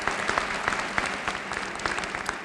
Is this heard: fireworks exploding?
no